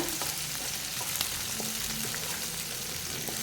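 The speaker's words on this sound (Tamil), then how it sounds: "இது எல்லாம் சேர்ந்து லைட்டாக வதங்கட்டும்" Curry leaves and a single broken dried red chili sauté in a pan of oil, giving a soft, steady sizzle with light crackle and occasional stirring clicks, fairly quiet and with no talking.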